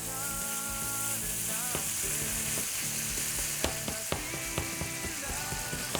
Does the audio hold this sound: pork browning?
yes